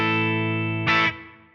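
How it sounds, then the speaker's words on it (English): A Line 6 Helix Stadium XL guitar amp rings out a sustained, lightly saturated chord with a brief brighter strum near the end, then a short room-style reverb tail decays quietly. "just that little bit of reverb from being in the room"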